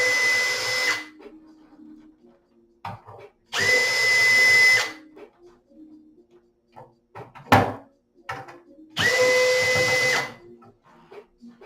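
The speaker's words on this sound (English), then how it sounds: "I'm going to remove the remaining 3 screws from those black feet." Three separate bursts of a power drill's whine, each lasting about a second or two, as it backs screws out of the black feet of an arcade cabinet. Clicks and handling noises fill the quiet gaps between the bursts.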